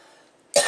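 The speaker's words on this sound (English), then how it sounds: "I'm coughing" A single sharp cough bursts out close to the microphone after a brief quiet moment, amid dust from grinding black walnut.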